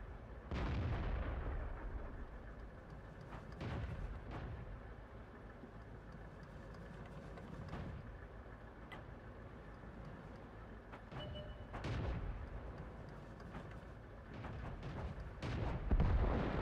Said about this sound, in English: Idiot T-67 is parked right behind me and shooting.